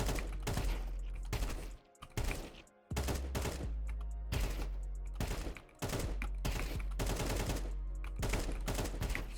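Short, crisp bursts of gunfire in a first-person shooter repeat in a steady rhythm, each quick volley separated by brief pauses, loud and close throughout.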